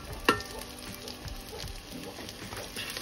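Chopped shallots fry in oil in a pan for a Kerala-style fish curry, a continuous close sizzle broken by a sharp clink and scraping stirs, with no voices.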